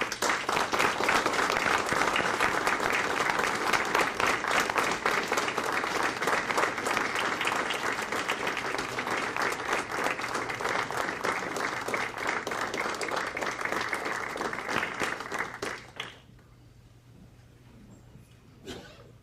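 An audience applauds in a long, dense burst of clapping that holds loud and even for about sixteen seconds, then cuts off sharply into quiet room tone.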